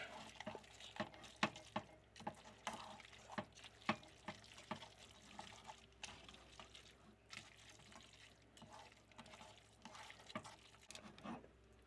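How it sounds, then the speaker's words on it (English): Guanciale being stirred back into carbonara pasta in a pan, giving repeated close wet clicks and scrapes of a utensil against cookware in an irregular rhythm, fairly quiet, with no talk. "Then you want to throw back in your guanciale and mix it up some more."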